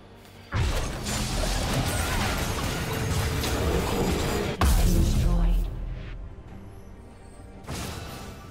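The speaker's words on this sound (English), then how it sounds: "Blue team's turret has been destroyed." A turret being destroyed in League of Legends lands as a loud crashing smash with debris and whooshing effects, then a second heavy impact midway before the sound fades, over continuous game noise.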